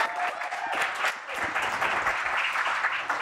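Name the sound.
audience applause for Julie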